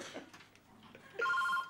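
A telephone bell rings loudly in a sitcom home early in the morning, a steady double-tone trill that starts abruptly after quiet room sounds.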